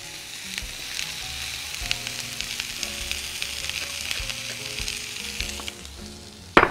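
A spoonful of oil sizzles in a very hot wok for fajitas, a steady crackling hiss with light tapping underneath and a sharp louder burst at the end.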